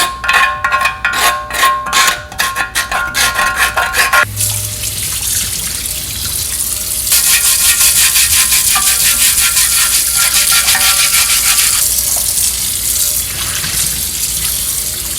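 A plastic scraper clatters and scrapes against a Cuisinel pre-seasoned cast iron grill pan for a few seconds under a steady stream of running tap water, and then the water keeps running on its own, loud and close.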